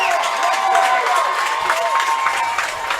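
A high school football crowd at a Peabody home game cheers and roars steadily for a third-down defensive stop, a dense, sustained wash of voices with occasional shouts rising above it.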